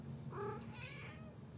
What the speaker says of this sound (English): And here's my kitty cat.